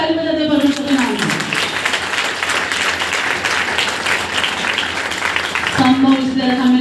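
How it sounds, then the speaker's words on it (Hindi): A church congregation at a sermon breaks into loud, sustained applause, close and dense for about five seconds, between stretches of a preacher speaking. "एक बार जोरदार ताली बजाते परमेश्वर के नाम में"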